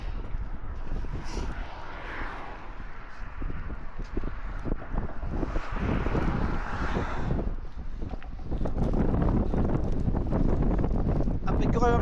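Strong, cold winter wind on a high bridge roars and buffets a microphone, a steady low rumble with gusts, while a person talks intermittently over it.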